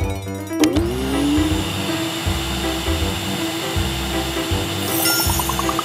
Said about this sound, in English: She brought a vacuum cleaner.